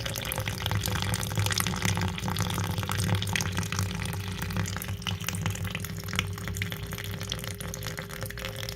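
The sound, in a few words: water draining from bathroom faucet water line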